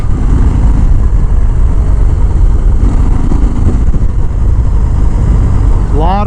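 Harley-Davidson Fat Bob motorcycle engine while riding, a loud, continuous rumbling drone with heavy wind noise and vibration, steady throughout the ride.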